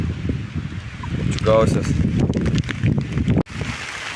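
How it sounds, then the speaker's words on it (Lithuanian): Strong storm wind buffets the microphone on a river during an inflatable kayak trip, a rumbling low roar with gusts, while a person talks over it. "Pakėlo toks didžiulis vėjas"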